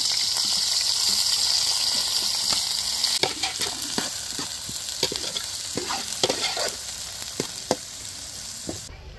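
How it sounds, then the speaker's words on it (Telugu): Onions, green chillies and curry leaves fry in hot oil with a steady, close, loud sizzle, broken after a few seconds by a series of sharp crackles and pops as they are stirred. "నూనె బాగా వేడెక్కింది కదండి. ఉల్లిపాయలు పచ్చిమిరకాయలు కరివేపాకు వేసేసుకున్నాం."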